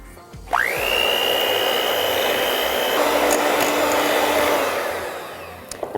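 Sugar and melted butter creamed together for banana bread, with a loud, steady electric mixer whirring close by for several seconds, its pitch rising at the start, dropping slightly midway, then winding down at the end.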